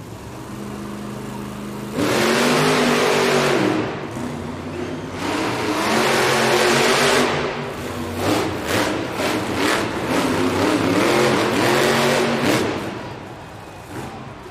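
Monster truck engine revving hard through a stadium racing run in Oakland, California, loud and close with repeated surging bursts of throttle and a roaring, whirring tone that rises and falls for about twelve seconds.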